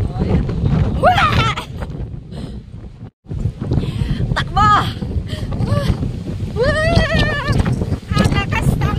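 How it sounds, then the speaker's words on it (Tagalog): Strong coastal wind buffets the microphone at Giant's Causeway in Northern Ireland, a heavy constant low roar with gusts, under excited speech and shouting from several people. "Sa sobrang lakas ng hangin, hindi ko na marinig yung sinasabi ko."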